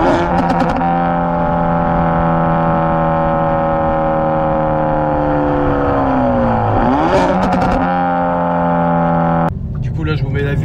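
A Hyundai i30 N engine with a loud, sustained harmonic drone that dips and then blips sharply upward as it automatically rev-matches a downshift, heard close up before the tone cuts off.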